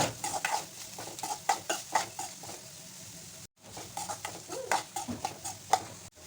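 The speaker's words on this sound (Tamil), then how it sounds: "பெரிய வெங்காயம் போட்டு நல்லா வதக்கி எடுத்துக்கலாங்க" Chopped large onions sautéing in a pan, a low sizzle under repeated clinking stirs of a utensil against the pan, close and fairly quiet, with a short cut of silence midway and no talking.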